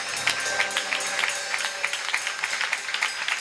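A church congregation applauding in acclamation of Jesus: a dense, steady patter of many hands clapping at once, fairly loud and sustained throughout, with a faint tonal hum beneath.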